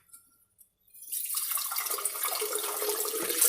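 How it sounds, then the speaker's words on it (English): After about a second of near quiet, water pours steadily into a container, making a continuous, close splashing rush that lasts to the end. "I'm going to add quite a bit of water to her"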